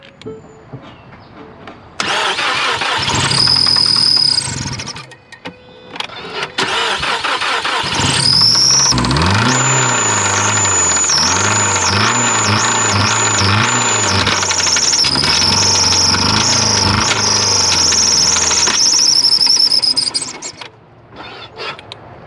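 A failing 2016 Ford Focus 2.0L engine cranks and fires, runs briefly with a high squeal, then restarts and runs roughly with knocking, shifting tones and a persistent shrill whine before shutting off; close and loud.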